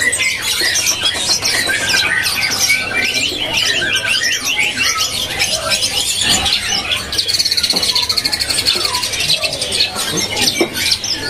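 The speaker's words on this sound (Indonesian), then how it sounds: "Jangkrik." Crickets chirp continuously at a busy bird market, with dense high trilling and overlapping bird tweets and squeals throughout, loud and close.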